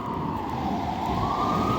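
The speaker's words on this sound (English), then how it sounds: "Fuck you, sirens" An emergency siren wails loudly and continuously, its pitch sliding slowly upward over a dense background roar.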